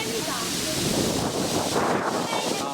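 Strong wind buffets the microphone in a steady, loud roar of broadband noise during a pigeon racing flight, with a voice speaking faintly underneath.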